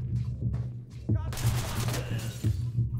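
Gunfire from suspects in the tactical shooter Ready or Not, a sustained burst of rapid shots with sharp cracks over a steady low background hum, likely mixed with game ambience.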